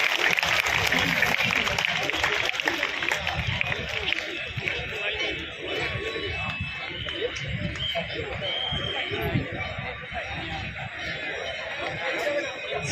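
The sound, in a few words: audience applause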